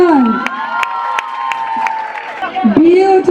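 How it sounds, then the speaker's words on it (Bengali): A live event audience cheers, whoops and applauds loudly and continuously, with shouting voices rising over the crowd throughout. "হাততালি"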